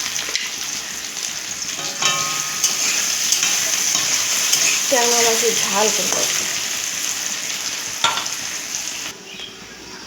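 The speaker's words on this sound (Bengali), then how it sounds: "আলুগুলো ভাজা হয়ে গেছে" Cut potatoes fry in hot oil in a home kitchen pan, a steady close sizzle with occasional stirring scrapes and a person speaking briefly over it.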